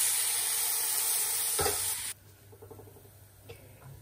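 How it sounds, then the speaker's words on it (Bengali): Rice fries in butter with onion in a pan for egg biryani, giving a loud, dense sizzle for about two seconds that suddenly drops to a quieter crackle with a few soft stirring scrapes. "আর ভালোভাবে চালটারে ভাজা ভাজা করে নেই"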